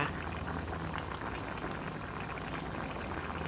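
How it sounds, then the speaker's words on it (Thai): Thai catfish curry bubbles in a pot over a medium flame, giving a steady, even hiss and simmer that continues without pause. "เริ่มเดือดแล้วก็เริ่มที่จะสุกแล้วนะคะ"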